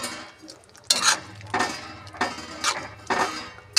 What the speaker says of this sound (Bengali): ভালো করে মিশিয়ে নেব সবজির সাথে